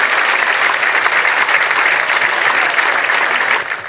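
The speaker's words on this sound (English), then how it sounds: "Give him a round of applause" An audience at an awards evening applauds steadily, a dense wash of clapping hands that stays loud throughout and eases off slightly at the very end.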